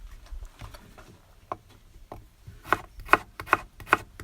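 A knife chops ginger, garlic and shallot into strips on a board, quiet taps at first, then a quickening run of crisp, close chops toward the end.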